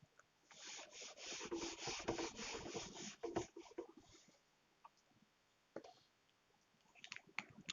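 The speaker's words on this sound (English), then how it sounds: "So I'm going to rub this portion." Writing being rubbed off a board during a maths lesson: faint, dry scrubbing strokes in a quick series, then a few scattered soft taps.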